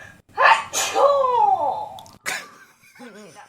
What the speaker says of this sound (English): hang on, I gotta sneeze